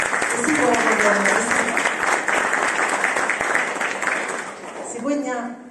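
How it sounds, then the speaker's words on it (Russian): An audience applauds throughout at the opening of an international Orthodox exhibition at a monastery's anniversary celebration: a dense, steady wash of clapping from many hands that tapers near the end as a voice begins. "Я прошу вас поприветствовать еще раз аплодисменты"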